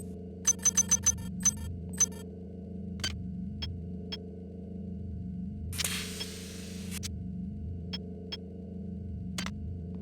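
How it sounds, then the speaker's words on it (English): Security camera in System Shock 2 emits a quick run of sharp electronic beeps, then sparse isolated pings and a brief hissing burst over a steady low machine hum. "This is a security camera."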